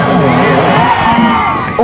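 At a live concert in Cabuyao, Laguna, a close, loud crowd shouts and cheers, with whoops and yells blending into one continuous roar for the whole moment.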